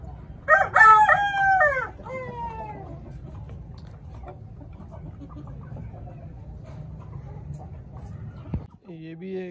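A Sindhi rooster crows loudly near the start, a drawn-out call fading within two seconds, followed by quiet coop ambience and a brief sharp sound near the end.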